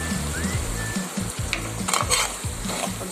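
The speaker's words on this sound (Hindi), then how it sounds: "अब यहाँ पे हम जो है इसमें मसाले ऐड कर लेंगे।" Garam masala, red chillies, turmeric and crushed coriander sizzle loudly in a pan for cauliflower and potato curry, with frying hiss broken by repeated scraping stirs of a utensil close up.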